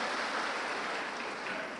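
Women in a hall audience give a short, fairly quiet round of steady clapping that carries on evenly without any voices over it.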